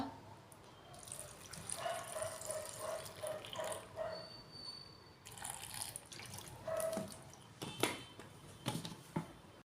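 Water poured into a blender jar over lemon and salt for juice, a faint trickling and splashing in a quiet kitchen with a few soft clinks.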